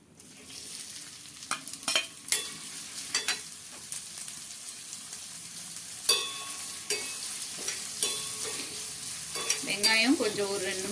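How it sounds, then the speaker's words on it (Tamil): Chopped onion and curry leaves go into hot oil in a kadai for a mushroom gravy, giving a continuous sizzle with intermittent stirring clicks and scrapes, no talking. "இப்போ நம்ம கட் பண்ணி வச்சுருக்க வெங்காயம் கருவேப்பிலை சேர்த்துப்போம்"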